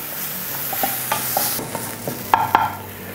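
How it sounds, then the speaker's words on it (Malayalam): Masala with coriander and garlic frying in a pan for rasam moru, a quiet steady sizzle with light stirring taps and a couple of sharper spoon clinks near the end, close by and with no talking. "മസാലക്കൂട്ടൊന്ന് മൂപ്പിച്ചു കൊടുക്കാം"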